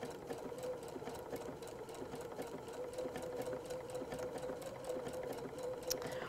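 A sewing machine stitches fusible appliqué on a pillow quilting project with a steady, fast, even whir and rapid needle ticking, running continuously and fairly quietly without pause.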